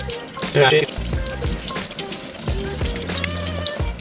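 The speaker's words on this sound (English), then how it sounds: "Because it's waterproof, you can just rinse it right off in the sink. Make sure to use hot water" Hot water running from a sink tap over a waterproof GoPro Hero 9 camera, a close splashing, gurgling stream with shifting tones as the camera is turned under the flow.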